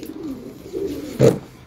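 Pigeons coo in a short burst amid faint background murmur, with one louder, closer coo near the end.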